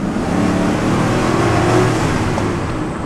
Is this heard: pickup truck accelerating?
yes